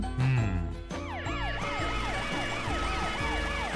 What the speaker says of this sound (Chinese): 打开你们的灯和警报，来警告大家离开这里。